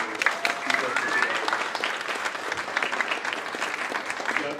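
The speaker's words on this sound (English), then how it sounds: "One big round of applause for all of the speakers today." An audience at a Denver Public Schools event on integration and equity claps for the day's speakers, a dense, sustained round of applause filling the room, with a voice speaking faintly beneath it.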